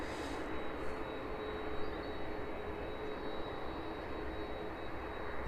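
A 1988-built Boeing 757 on approach to an airport produces a continuous, fairly distant jet roar and whine that holds steady throughout, with no voices over it.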